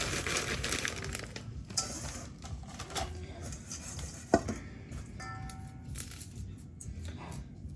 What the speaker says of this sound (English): I have this meat smasher, but I'm going to use it to smash these up.